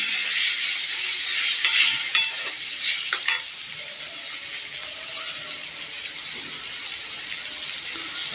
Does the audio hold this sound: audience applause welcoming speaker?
no